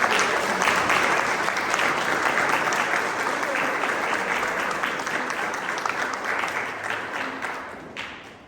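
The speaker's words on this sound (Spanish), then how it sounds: "Pido un fuerte aplauso para él y agradeciendo la compañía." Strong, sustained applause from an audience at a book presentation in Tlalpujahua, many hands clapping loudly and continuously before gradually thinning and fading at the end.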